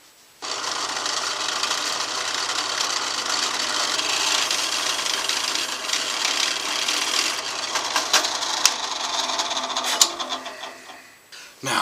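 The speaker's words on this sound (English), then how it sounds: "I guess we need to drill some holes" Holes for inlaid ringed dot fret markers are drilled into a wooden guitar fretboard, a loud continuous whirring drill grind that holds steady for about ten seconds, then winds down and stops.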